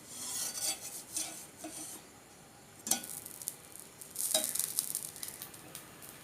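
Paruppu dosa, a lentil crepe, sizzles on a hot pan as it is loosened and flipped, with soft scraping and rasping spatula strokes and a sharper scrape during the turn, close and moderately quiet.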